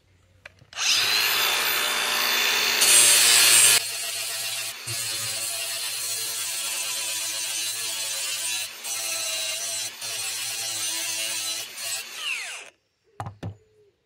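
A lawnmower blade is sharpened on its other side with a power tool, a loud continuous grinding whine in several long passes with short breaks, ending with a few clunks.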